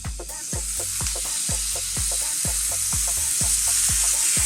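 A T-bone steak sizzles loudly and without a break on a grill as it is brushed with an olive oil, garlic and lemon juice baste. A rhythmic clack of roughly twice per second repeats over the sizzle.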